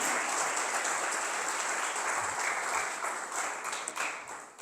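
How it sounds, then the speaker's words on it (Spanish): Congregation applauding inside a church: a sustained, dense wash of clapping from many hands, steady and fairly loud throughout with no speech over it. "dar un aplauso al Señor"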